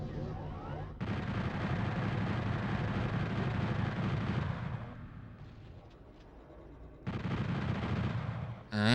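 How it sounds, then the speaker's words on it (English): Rapid chain gun fire in the video game Final Doom, a dense sustained burst of shots from about one to five seconds, pausing, then resuming near the end, loud and close over game background noise. "Might be time for a little chain gun."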